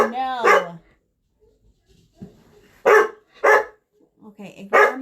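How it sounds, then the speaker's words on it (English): A pet dog barks in a few sharp, loud bursts in a quiet indoor room, with pauses between them, while someone speaks to it. "ignore my dog because he thinks that someone's here right now"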